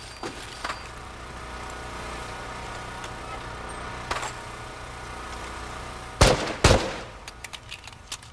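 Turret gunfire in a video game, heard as a low steady mechanical rumble with scattered sharp reports and a pair of loud close blasts near the end.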